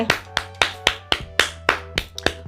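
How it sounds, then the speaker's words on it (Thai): Scattered claps ring out sharply, close by, in an uneven rhythm of about ten beats. There is no talking over them. "ปรบมือสิคะรออะไร"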